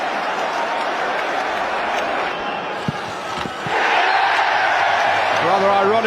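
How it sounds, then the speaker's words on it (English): Football stadium crowd at a Champions League semi-final between Manchester United and Arsenal, a steady loud roar of many voices that swells into a fuller ironic cheer after a penalty is awarded, with a few sharp thuds along the way. "Rather ironic cheer greets the penalty."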